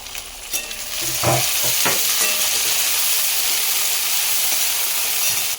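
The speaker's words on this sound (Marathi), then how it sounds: "आता आपण यामध्ये घालून घेऊया बारीक कापून घेतलेला टमाटर" Finely chopped tomato sizzles loudly in hot oil with golden-fried onion for a homestyle tondli (ivy gourd) bhaji, with a few stirring scrapes before a steady, continuous frying hiss.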